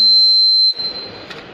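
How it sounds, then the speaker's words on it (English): A rain alert alarm gives one shrill, steady electronic beep, loud and close, that cuts off abruptly and leaves a faint background hiss. "It gives an alarm of 5 times"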